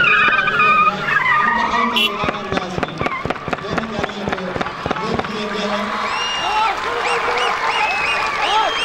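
At a police college training demonstration, police vehicles chase a car and a bus held by mock terrorists. Loud tire screeches and engine noise mix with a rapid run of sharp bangs, while voices shout and call out over the action.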